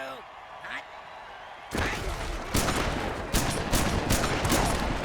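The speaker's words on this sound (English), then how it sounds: "pull out a shotgun and shoot people" Shotgun blasts from the Mutant Football League video game, a run of sharp, loud bangs in the game's brutal football setting, coming at irregular intervals over constant game noise and crowd din.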